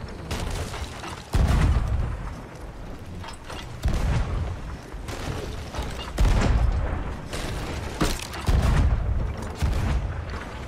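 Ship cannons fire in the pirate video game Sea of Thieves, a series of heavy booming blasts repeating every couple of seconds amid constant battle noise, with no talk.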